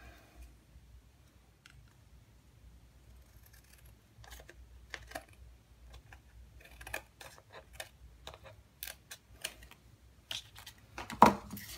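Scissors trim the edges off a postcard in quiet surroundings, producing a scattered series of small dry snips and clicks that grow denser and louder toward the end.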